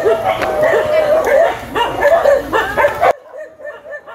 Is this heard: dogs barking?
yes